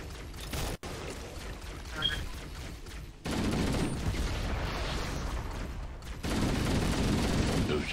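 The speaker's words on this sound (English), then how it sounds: "Shot a grenade." In Halo: Combat Evolved, a grenade launch is followed by rattling gunfire. It comes as a sharp crack near the start, then two stretches of dense, steady shooting noise at moderate loudness.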